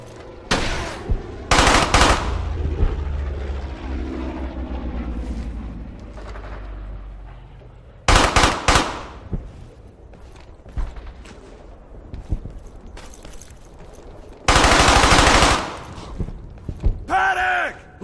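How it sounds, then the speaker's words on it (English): Video game gunfire from Brothers in Arms: Hell's Highway, heavy machine-gun bursts and loud rifle shots in three intense volleys with rumbling battle noise and shouting soldiers between them. "Don't stop firing!"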